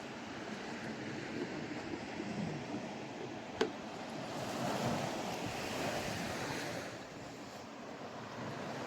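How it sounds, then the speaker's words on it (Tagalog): Strong sea waves at a beach in Batangas, Philippines, a steady roar of surf with wind noise on the microphone and one brief sharp click partway through. "Lakas ng alon."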